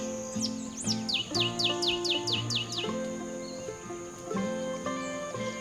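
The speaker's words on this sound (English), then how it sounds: "Greenback sparrow." A green-backed sparrow sings in Belize woodland, a rapid series of bright descending chirps followed by quieter notes, close and clear over a low steady hum.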